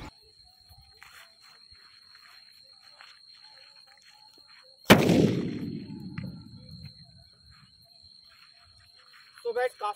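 A single loud Diwali firecracker bomb blast cracks suddenly, its boom rolling and fading over a couple of seconds, with a steady high electronic whine and faint outdoor noise around it.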